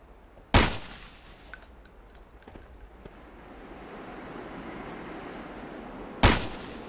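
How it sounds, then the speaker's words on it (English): Two sharp, loud gunshots from the video game Ghost Recon Island Thunder ring out several seconds apart, with faint metallic clicks and a low rumbling ambience between them. "Alright, now we shoot in here."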